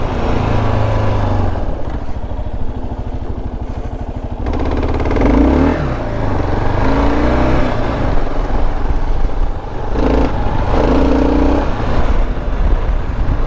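Engine of a passing vehicle on an off-road dual-sport trail, heard over the steady close rumble of a KLR 650 motorcycle, with revving swells and clatter and no talk.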